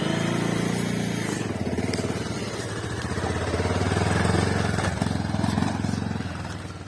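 A motorcycle engine runs steadily and fairly loud at the Purtighat, Seti Beni area in Gulmi, with a low, chugging drone that swells slightly midway and holds on throughout.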